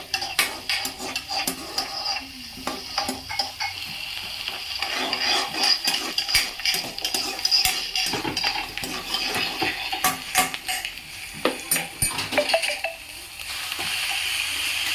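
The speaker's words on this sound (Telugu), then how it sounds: "ఉల్లిగడ్డలు వేసుకొని ఇప్పుడు మిక్స్ చేసుకోవాలి." Onions stirred in a cooking pan, with repeated scraping and clinking of a utensil against the metal over a soft sizzle, close and continuous.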